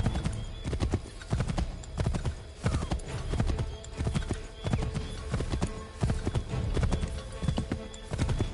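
Horse hooves gallop in a rapid, steady clip-clop rhythm in the video game Assassin's Creed III, loud and close, with brief snorts and whinnies mixed in and no speech.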